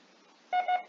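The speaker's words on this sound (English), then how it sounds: "When you hear the CW sound for the letter I" Morse code CW tone for the letter I: two short, clean, steady beeps in quick succession, the dit-dit pattern, sounding alone against a quiet background.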